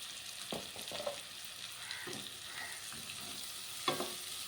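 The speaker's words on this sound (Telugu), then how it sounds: "ఈ ఉల్లిపాయ బాగా మగ్గేంత వరకు ఎర్రగా వచ్చేంత వరకు మగ్గించుకుందాం" Sliced onions cook in a pan with salt and turmeric for a curry, a soft, fairly faint sizzle running throughout, with a few brief knocks and scrapes from stirring.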